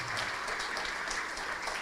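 A church congregation applauding for Jesus, with dense, sustained clapping from many hands in a reverberant hall that holds steady and fairly loud throughout.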